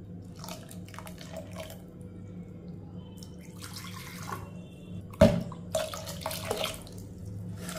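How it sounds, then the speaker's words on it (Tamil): Coconut milk pours into a pot of millet (kambu) porridge with trickling, dripping liquid sounds close by over a low background hum, and a brief clunk of the vessel partway through. "இப்போ இதை வந்து நம்ம பாலை வந்து இதில் ஊற்றிக்கிடுவோம்"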